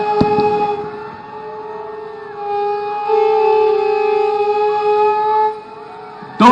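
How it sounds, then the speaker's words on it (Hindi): A civil defense air raid siren wails during a blackout mock drill in Lucknow, a loud, steady tone that shifts in pitch and level, with a sharp knock at the start and a louder burst at the end. "दो मिनट तक ऊंची और नीची आवाज में यह सायरन बज रहा है।"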